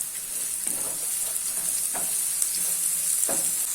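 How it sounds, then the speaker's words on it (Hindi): Finely chopped onions sizzling in hot oil in a pan, a constant bright hiss broken by a few scraping stirs of a spoon, close up and with no talking. "अभी इसमें फाइनली चॉप किए हुए ऑनियन ऐड कर लेना है और मिक्स कर लेना है।"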